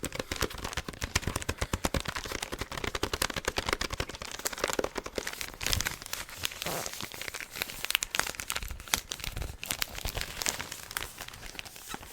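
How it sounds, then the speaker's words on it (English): Crinkly tapping on Christmas wrapping paper around a present, a dense, steady stream of sharp crackling taps up close, continuing alone without any talk. "I do like this type of sound because it's tapping, but it's like crinkly tapping."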